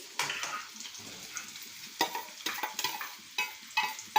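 Green chillies frying in oil in a pan, with a low sizzle broken by repeated sharp stirring scrapes and clinks of a utensil at an irregular rhythm, close and with no voices.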